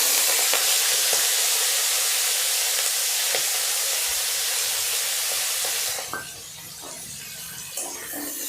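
Salted prawns frying in a pan, a steady dense sizzle that runs loud and close for about six seconds, then drops to a quieter crackle with a few soft clinks.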